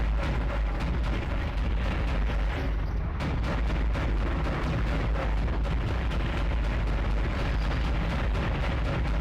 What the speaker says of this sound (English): me shooting this thing over and over again